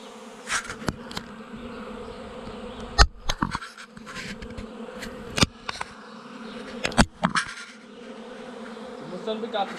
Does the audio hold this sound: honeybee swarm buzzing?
yes